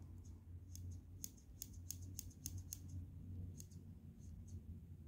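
Scissors of a Workpro 15-in-1 multitool being handled, giving a string of crisp, sharp metallic clicks and snips close by over a low background hum, with no talking.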